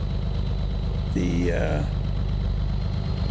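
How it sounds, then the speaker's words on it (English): A new Brewbilt 379 truck engine idles in American Truck Simulator with a steady, low, even rumble that runs the whole time. A brief tonal sweep rises midway, and a voice is barely heard. "the engine, the new engine"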